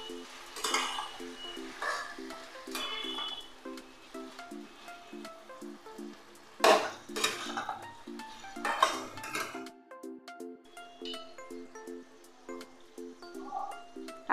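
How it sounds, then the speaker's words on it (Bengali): Marinated chicken coated in black pepper and sour curd goes into a cooking pot for chicken malai curry. Clatters and scrapes of pot and utensil sound close by, with a sizzle and bursts of stirring and no talk. "ম্যারিনেট করা মাংসটা আমি দিয়ে দিচ্ছি, গোলমরিচ, টক দই দিয়ে ম্যারিনেট করে রেখেছি।"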